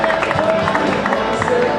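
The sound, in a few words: applause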